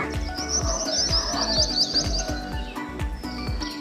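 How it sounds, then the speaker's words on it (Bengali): A koel and other birds call outdoors in spring, a run of bright repeated whistling notes up front over steady chirping, with regular low thumps underneath. "দেখো কোকিল উড়ে গেল"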